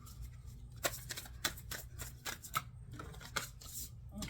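Tarot cards being shuffled by hand during a reading, a papery riffle of soft flicks and sharper slaps at an uneven pace, close and fairly quiet over a low background hum.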